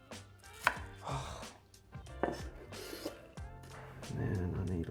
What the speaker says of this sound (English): I'm just going to take a small portion of this onion and put it in there. Just dicing it fine.